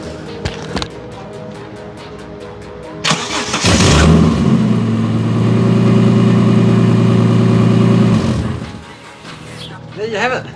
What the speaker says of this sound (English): My first ever engine out and back in, and first time, absolutely starts right up.